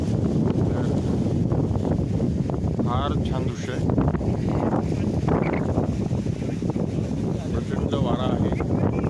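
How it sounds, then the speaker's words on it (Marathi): Strong wind roars beside the Nira River on a rainy cycling ride near Bhor, loud, steady buffeting against the microphone while people talk over it. "प्रचंड वारा आहे"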